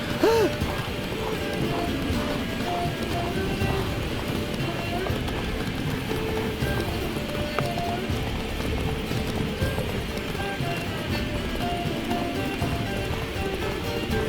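Roach the horse gallops through a video game world, steady clip-clop hoofbeats running continuously and loud, with an occasional whinny and voices talking over the top.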